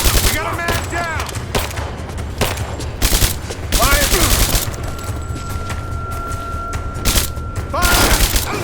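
Loud, dense gunfire fills a Rise of the Tomb Raider battle in abandoned mines, bursts of automatic fire and booming shots rolling nearly nonstop, with shouted voices breaking through.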